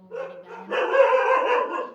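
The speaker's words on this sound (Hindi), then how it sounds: "कुत्ता लोग भौंक रहे हैं" Dogs bark at night, close and loud, in a short burst of overlapping, throaty barks.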